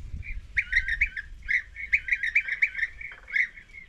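European bee-eaters, migratory birds, give repeated rolling trilled calls in quick bursts, clear and fairly close over faint low background rumble.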